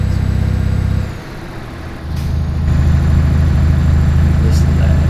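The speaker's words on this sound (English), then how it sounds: "This is a Scania, and it's got a V8 motor, like diesel V8." Scania truck with a diesel V8 idling in Euro Truck Simulator 2, a steady, loud, low rumbling drone that dips briefly near the start, then settles back into an even throb.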